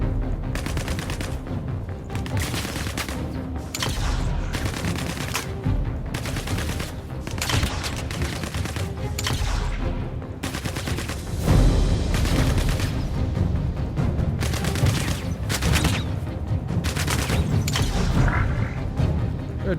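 Rapid bursts of gunfire from a Star Citizen firefight, repeated volleys and single shots crackling over a busy game soundscape with mechanical clanks, fairly loud and continuous throughout.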